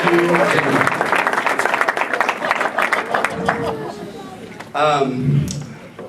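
Wedding guests clapping for a best man, fairly loud applause that thins out partway, then a voice speaks near the end.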